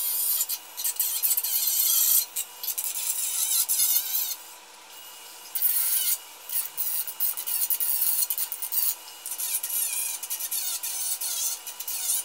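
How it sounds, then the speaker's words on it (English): Steady hand sanding on a part from an ATI Radeon 3870X2 graphics card, a close, soft raspy rubbing in irregular strokes with brief pauses. "now I've finished sanding this down"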